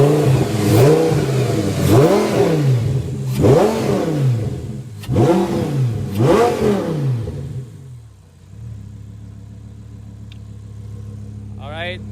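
An Audi R8 V10's intake roars through four sharp revs that rise and fall in quick succession, then the engine drops to a steady low idle hum; a voice speaks briefly over the engine.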